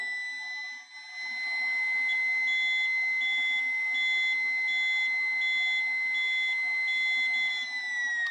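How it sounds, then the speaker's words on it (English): Powered air-purifying respirator unit sounding repeated short electronic beeps at an even rhythm over a steady high whine of its blower, close and clear with no talk. "you'll hear the machine beep, and it will then drop down to a lower airflow level"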